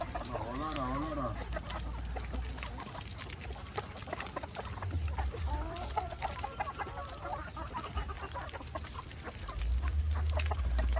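Chickens cluck and a rooster calls in a farmyard setting, with repeated close clucks early on, background voices talking, and low rumbling noise throughout.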